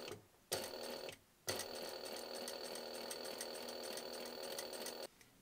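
A Juki DDL 8700 industrial sewing machine runs at slow pedal speed, a steady mechanical hum with a high whine, heard in two bursts: a short start and stop, then a longer run of about three and a half seconds.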